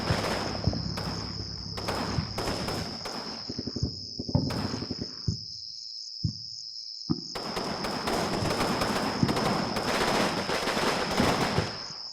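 Machine-gun bursts and rifle shots from a machine gun team firing in the video game Combat Mission Normandy, a dense rattle of repeated sharp cracks with a steady high insect-like hiss running underneath and a brief lull midway.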